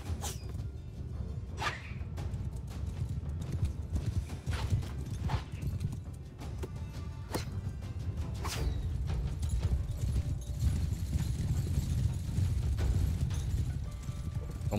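Horse galloping in Mount & Blade II: Bannerlord during a battle, a continuous rhythmic thud of hoofbeats at moderate volume with occasional sharp clicks and impacts layered over the gait.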